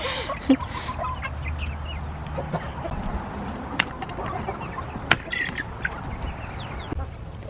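A flock of chickens clucking and murmuring nearby, with scattered sharper squawks over a busy outdoor background.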